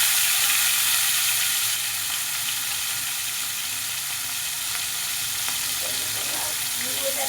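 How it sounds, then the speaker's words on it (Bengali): Two fish pieces fry in hot mustard oil, giving a steady, close hiss and sizzle that lasts the whole time, with a few faint clinks and stirring noises near the end. "আগে 2 পিস মাছ লাল লাল করে ভেজে নেব।"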